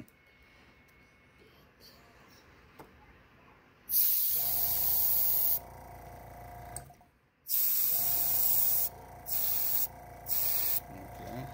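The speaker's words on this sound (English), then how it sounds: "I wouldn't do it that way because you're going to spray up." An airbrush hisses in several bursts while painting a perch swimbait fishing lure, a long spray followed by shorter ones with pauses between, close and sharp over a quiet background.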